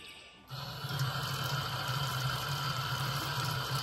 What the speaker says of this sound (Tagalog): So maghugas muna tayo ng kamay mga kagala.